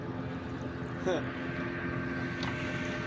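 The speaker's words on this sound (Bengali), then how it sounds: "স্পিড বোট যাচ্ছে এখান দিয়ে" Speedboat passing on the Padma river, a steady engine drone under wind and open-air noise, moderately distant and continuous, with faint voices in the background.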